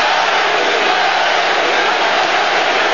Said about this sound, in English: The crowd chanting Larry Holmes' name